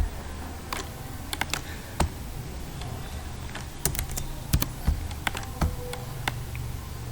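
Sparse keystrokes on a computer keyboard while entering data into an Excel spreadsheet: scattered single clicks and short clusters, close and crisp against a quiet background, with no talking.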